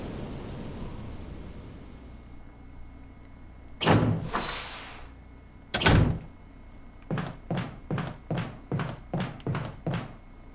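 In the Resident Evil REmake, a mansion door creaks open with heavy thuds and shuts again, followed by a quick run of evenly spaced footsteps.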